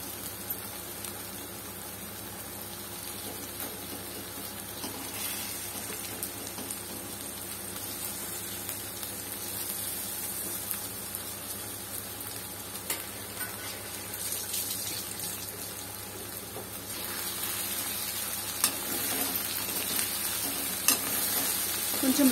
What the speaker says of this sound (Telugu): ముందుగా కడుగు పెట్టుకుని చేప ముక్కలు వేద్దాం.